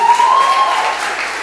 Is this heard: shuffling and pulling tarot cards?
no